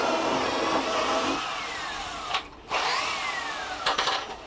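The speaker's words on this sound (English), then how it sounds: "take your drill bit and pilot drill the holes out" A handheld drill bores pilot holes for screws into a boat's fiberglass deck to mount an aluminum bow rail, its motor whining with rising and falling pitch, pausing briefly, then spinning up again close by.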